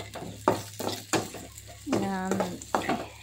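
Vegetables fry half-done in a pan, a soft sizzle broken by repeated stirring scrapes and knocks, with a voice talking briefly over it.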